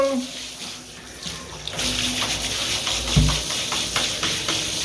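Water splashes and pours over a Zealot S32 Bluetooth speaker in a weather-resistance test, a steady close wash of spray and trickling that swells sharply partway through, with a brief voice early on.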